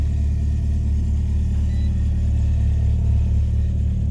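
Nissan Silvia S13 engine idling high after a cold start, a loud, steady low rumble with a constant even hum, close to the car, with no talking over it.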